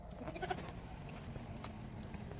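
Goats on a farm giving a couple of faint, brief bleats close together, followed by quiet ambient noise.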